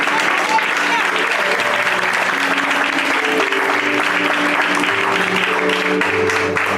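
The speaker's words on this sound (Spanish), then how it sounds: "Den un fuerte aplauso al Señor." A church congregation at a revival conference applauds, sustained dense clapping filling the room while music or sung tones carry underneath and voices rise over it.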